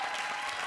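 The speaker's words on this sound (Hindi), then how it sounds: "वेल ऑडियंस, इन दोनों की सारी परफॉर्मेंसेस के लिए जोरदार तालियां" Steady studio audience applause at a Comedy Circus comedy show, dense and continuous clapping filling the short moment with no voices over it.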